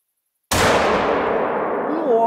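A single sharp hunting-rifle shot in the hunting game theHunter: Call of the Wild cracks after half a second of silence and rolls into a long, loud echoing tail, with a voice briefly heard near the end.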